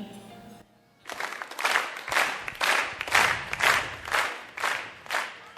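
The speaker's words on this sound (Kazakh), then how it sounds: "біздің DJ фонограмма шапалақты қайта қойып жатырмылар" Recorded applause played over the sound system at an evening wedding celebration: a short burst of clapping that swells into steady, rhythmic waves, loud and fairly near.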